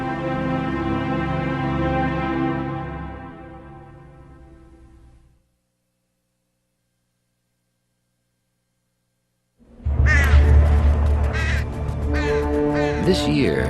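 Crows caw in loud, harsh, overlapping calls after a low droning tone fades away into a few seconds of silence.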